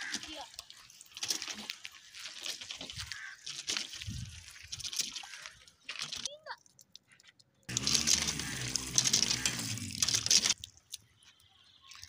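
Water runs from a hand pump in uneven bursts and trickles, with a loud gushing stretch near the end. Handling noises and faint voices come through in between.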